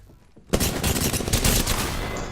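Rapid sustained gunfire from the Apex Legends video game bursts in loudly after a quiet moment and keeps going as a dense continuous barrage.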